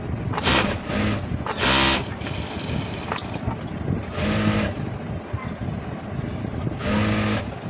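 Sewing machine stitching the side seams of a blouse, running in several loud bursts separated by short pauses, with steady mechanical whirring close by and background noise between runs.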